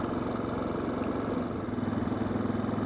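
A Suzuki DR650 dual-sport motorcycle thrums steadily while being ridden, its single-cylinder engine pulsing in a low, even rhythm under a broad wash of wind and road noise, close and fairly loud throughout.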